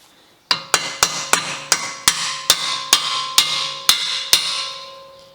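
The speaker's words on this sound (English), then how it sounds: "you need to get an extension or something in there and hit it with the hammer to carry on pushing it out" About eleven sharp, ringing metal hammer blows on a socket extension, driving a seized lower ball joint out of a VW Scirocco suspension; close and evenly paced, each strike decaying briefly before the next.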